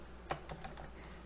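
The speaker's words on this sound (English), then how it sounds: "You start typing here your city." Several quick keystrokes on a computer keyboard clatter close by, a short burst of distinct clicks in a quiet room with no talk.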